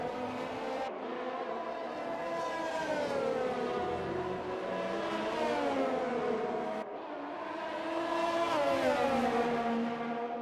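A McLaren and a Ferrari battle closely in a Brazilian Grand Prix racing video game, their engines holding a loud, continuous high-pitched whine that rises and falls with gear changes, without a break except one brief dip.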